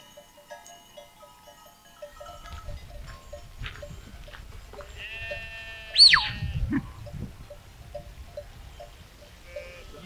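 Sheep and goats out grazing bleat, some near and some farther off, with a prominent loud bleat midway over a low bed of shuffling and grazing noise; no one speaks.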